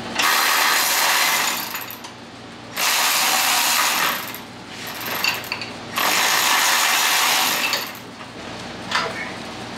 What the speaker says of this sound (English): We're going to get a different ratcheting device in here in a minute.